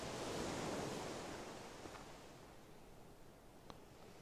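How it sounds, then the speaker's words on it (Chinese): Ocean waves wash against the shore in the PUBG PC game, a soft, continuous surf that swells at first and then eases slightly, with a couple of faint ticks. "这个海浪声吹得我听不清"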